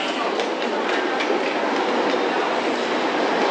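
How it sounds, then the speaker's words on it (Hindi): A Beijing metro train rumbles loudly and steadily close by, a constant roar of wheels on track with faint rhythmic clacks. "तो ये मेट्रो आ गई, लेकिन मेरे को जाना है इस तरफ"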